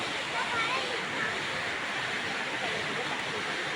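Vattakanal waterfall in Kodaikanal, a steady broadband rush of falling water filling the scene continuously, with faint voices underneath.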